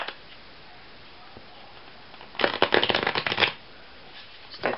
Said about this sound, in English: This deck's really hard to shuffle because it's brand new.